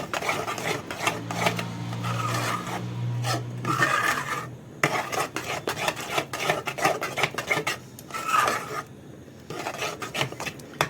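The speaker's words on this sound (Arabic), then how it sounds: "نحطها في القالب ونقطعها بقى على قد ما احنا عايزين" Homemade Maggi-style soup cubes are cut in a mold, with repeated scraping and rasping strokes and clinks of a utensil against the mold. The bursts are fairly close and come in an irregular rhythm.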